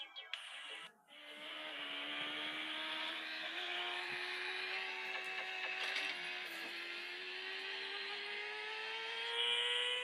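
Car racing engine from the Turba race video game, a steady synthetic whine that climbs slowly in pitch over a constant buzzy drone, fairly quiet and uninterrupted by talk.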